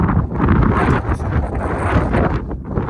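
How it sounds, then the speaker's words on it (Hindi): Strong wind on a mountain trek to Ganga Choti in Bagh District, Kashmir, buffeting the microphone in a constant loud roar, gusting slightly, with no voices. "ये देख रहे हैं कितनी तेज़ हवा है।"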